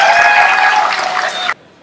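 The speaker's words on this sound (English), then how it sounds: "A huge round of applause for each of the graduating class of 2018." Audience applause for a graduating class of 2018 at a ceremony, a dense, loud burst of clapping that runs steadily and then cuts off abruptly.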